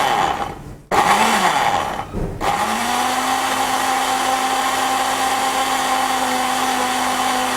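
A kitchen blender whirs in a home kitchen during a Ramadan iftar cooking demonstration. It starts and stops twice with brief pauses, then holds a loud, steady, high-pitched whine for several seconds with no talking.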